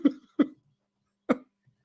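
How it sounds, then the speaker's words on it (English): Three short, throaty burps from a man, two close together and a third after a pause, each abrupt and fairly close, with nothing else around them. "I'm burping so much."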